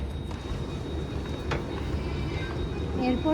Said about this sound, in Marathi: पुणे मेट्रो.